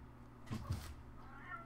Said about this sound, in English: Sorry, that's my cat in the background.